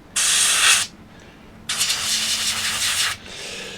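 Airbrush spraying brown paint onto the wing of a 1/48 Tamiya Spitfire Mk.1 model: two steady hissing bursts, a short one then a longer one, with quiet pauses between, close and fairly loud.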